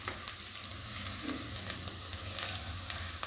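Masala pasta cooks in a pan with a steady, close sizzle and bubbling crackle and a few faint stirring clicks.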